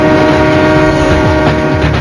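A steam train rumbles along while its horn sounds in a loud, sustained, harmonic blast that fills the whole two seconds, close and overpowering.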